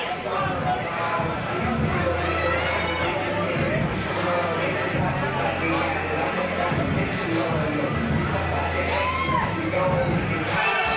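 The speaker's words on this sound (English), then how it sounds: "And listen to the crowd, Steve." A fight-event crowd at XFC roars and cheers continuously, a dense wash of shouting and noise with voices and commentary layered over it.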